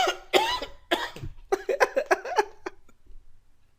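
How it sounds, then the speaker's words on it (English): A person coughs in a rapid string of dry, hacking bursts, a few strong coughs followed by a quicker, softer run that trails off, close to the microphone with no talking. "My throat is dry. I feel a cough."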